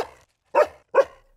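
A dog in a 1968 French film excerpt barks twice, two short, loud, close barks about half a second apart, following a faint earlier yelp.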